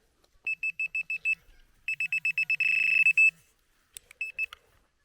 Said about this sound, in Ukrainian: І ще щось там пікає.